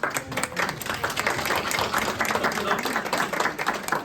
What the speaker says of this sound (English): I think we need to give a round of applause to the younger Mr. Gillis for attending a meeting